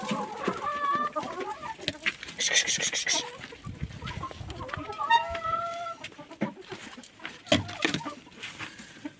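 Several hens cluck and squawk up close in a backyard coop at feeding time, their calls irregular and overlapping, with someone talking softly among them.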